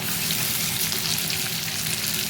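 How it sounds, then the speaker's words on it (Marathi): Onion frying in hot oil on a high gas flame, a loud, steady, close sizzle that fills the whole moment without pause, no voices over it. "आता आपण याच्यामध्ये कांदा टाकूया"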